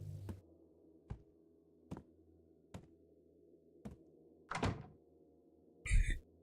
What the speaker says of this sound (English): Wait, why does that door sound kind of like Minecraft?